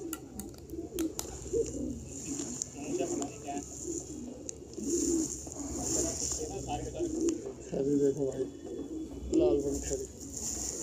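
Pigeons coo repeatedly nearby during a pigeon fight, with soft throaty calls and flapping amid background voices and noise.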